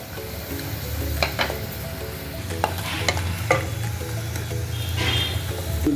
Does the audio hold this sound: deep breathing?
no